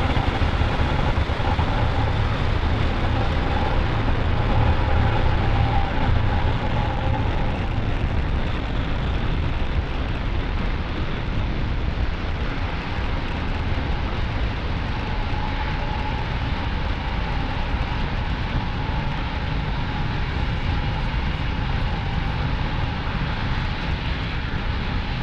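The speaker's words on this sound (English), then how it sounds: "ignition, and liftoff of Falcon 9" A Falcon 9 rocket lifts off from Pad 40 at Cape Canaveral Space Force Station, its engines producing a loud, continuous, crackling roar that holds steady for the whole stretch.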